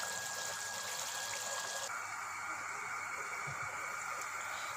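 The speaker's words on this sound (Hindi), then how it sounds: "देखें पानी में बॉयल आ गया है।" Water bubbles and churns steadily in a cooking pot for chicken biryani, a constant hissing, gushing wash with an abrupt shift in tone partway through and no voices.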